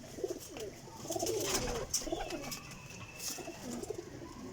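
Champion flying pigeons, large-sized desi birds kept in Sarai Alamgir, Jhelum, coo steadily in low, rolling throaty calls that overlap across the whole stretch, close by against a faint background hum.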